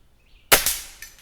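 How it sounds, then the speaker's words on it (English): A single close, sharp report from a Gamo Swarm DX .22 air rifle, followed by a quick metallic knock of the target being struck and knocked up. "It didn't go quite up, so you got to shoot it again to get it up."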